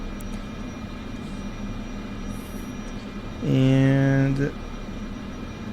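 Cessna 208 turboprop in the video game MSFS 2024 holding a steady low engine drone at high idle, with a brief tonal hum swelling for about a second midway; someone talks over it.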